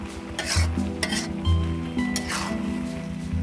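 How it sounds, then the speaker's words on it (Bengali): A spoon turns tengra fish curry with vegetable stalks and coriander powder in a pan. Close scraping strokes and clinks come every half second or so over a steady sizzle, with no voice. "এখন হচ্ছে এপাশ ওপাশ করে উল্টিয়ে পাল্টিয়ে নিচ থেকে উপর থেকে এভাবে ঘুরিয়ে একটু নেড়ে চেড়ে নিলাম"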